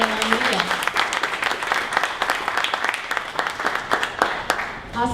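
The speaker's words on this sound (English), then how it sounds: "All right, one more round of applause for Ride Along Media." An audience at a Dallas startup pitch event applauds a presenting company. A mid-sized crowd claps in a dense, lively round that runs the full length and sways in loudness, with a voice briefly audible at the start.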